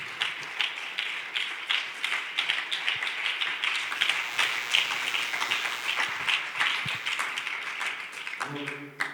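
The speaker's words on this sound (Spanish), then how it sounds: "¿Por qué no le damos un aplauso al Señor?" Congregation applauding at a Spanish-language church service, a rhythmic, fairly faint clapping from many people that runs throughout, with a voice over it at times.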